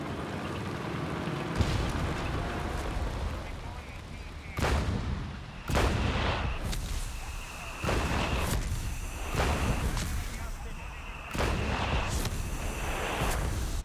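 In a Company of Heroes 3 3v3 match, an artillery barrage fires repeated heavy booms, each sharp blast followed by rumbling decay, spaced a second or two apart over steady battlefield noise.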